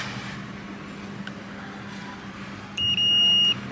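A multimeter gives a short continuity beep while capacitors are checked on an iPad Air 2 logic board during board-level repair; one clear electronic tone sounds near the end over a quiet background hum.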